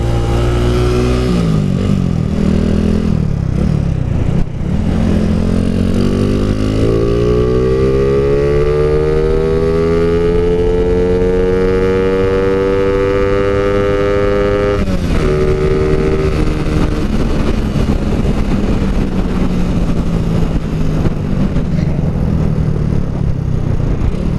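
A Honda Wave 125 motorcycle engine with upgraded valve springs revs on a test ride, its pitch climbing steadily as it accelerates, easing briefly, then rising again, loud and close throughout.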